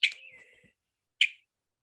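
A Western meadowlark call note played from a recording: a clear whistled note with a short trailing tail, then a second brief chirp after a pause, isolated and fairly faint.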